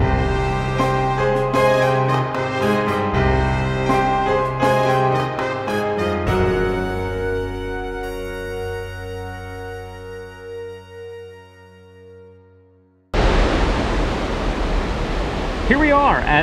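Water pouring over the overflow dam at McConnell's Mill, heard as a loud, steady rushing roar in the final few seconds, after a long stretch of music.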